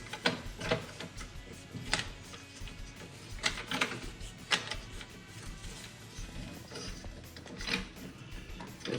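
A tightener on a Thule ReVert vertical bike rack being cranked down, giving irregular clicking and ratcheting mechanical sounds with a few sharper snaps, close and moderately loud with no talking.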